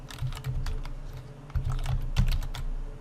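Someone presses a shortcut on a computer keyboard, producing a short run of crisp, close key clicks at an uneven pace, with no voices.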